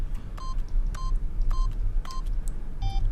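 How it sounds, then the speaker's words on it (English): Keypad code entry in the video game The Stanley Parable: a series of short electronic beeps, about six evenly spaced presses, clear over a steady low background hum. "Stanley simply began entering random codes into the keypad,"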